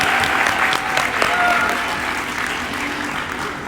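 An audience claps at a signing ceremony for a high school athlete, producing dense, steady applause close by that fades slightly toward the end, with voices mixed in.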